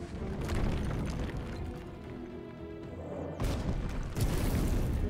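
Enemy units open fire in the turn-based fantasy strategy game Age of Wonders 4: a dense layer of battle noise, with heavy booming impacts hitting harder toward the end.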